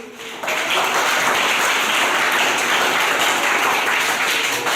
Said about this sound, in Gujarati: ચાલો બધા માટે તાળી